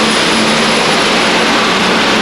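The biodiesel-fuelled Silver Bullet pulling tractor roars at full power during an indoor European tractor pulling run in Rotterdam, a loud, steady, unbroken engine blast that fills the whole moment.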